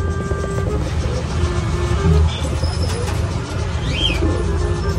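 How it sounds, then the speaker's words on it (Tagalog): Caged pigeons coo softly amid a dense bed of background noise, with occasional chirps and the hum of traffic nearby. "Daming kalapati nakakulong dyan ngayon"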